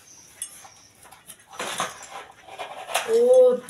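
Metal spoons clink and rattle as they are handled and sorted among plates, a few sharp scattered taps up close, with a person talking nearby.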